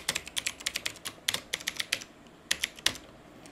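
Quick, light clicks of a computer keyboard as a password is typed, close and crisp in short irregular bursts with small pauses between them, with no talking.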